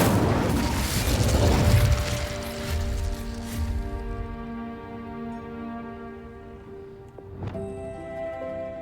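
An Incendio fire spell in the video game Hogwarts Legacy blasts out in a loud, booming whoosh that rumbles for several seconds and then fades, leaving lingering tonal hum and a sharp late pop.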